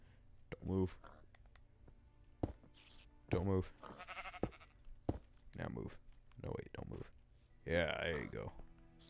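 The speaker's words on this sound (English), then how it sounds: "Sheep." Sheep bleat in the Minecraft video game, several short bleats spaced apart among soft clicking game sounds, with faint background audio.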